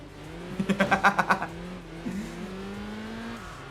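A TVR sports car engine in the Enthusia Professional Racing video game, a quick run of revving pulses followed by a steady lower engine drone, moderately loud with no speech over it.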